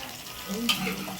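Boiled meat goes into a pan of fried masala with a soft, steady sizzle and a sharp stirring scrape partway through, close and low in level.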